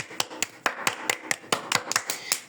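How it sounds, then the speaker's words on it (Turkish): A small group claps in a brief burst of about a dozen sharp, irregular claps, close and alone with no talk over them. "Alkış."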